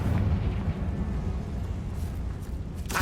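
A Confringo blasting spell detonates in Hogwarts Legacy, a heavy rumbling explosion that rolls on and fades, followed by a sharp crack at the end.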